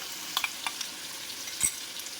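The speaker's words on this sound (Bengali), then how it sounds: "সয়াবিনের সাথে সাথে এবার মশলাগুলোও দিয়ে দিলাম" Spices tipped into soybeans frying in a pan, giving a steady, close sizzle with a few sharp crackles and spits rising out of the hiss, no one talking.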